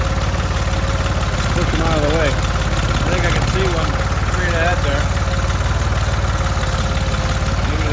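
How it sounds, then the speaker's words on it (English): A tractor engine idles and chugs steadily out in a field near a hedgerow, a constant low drone running throughout while someone talks over it. "So I'm going to take the tractor over and"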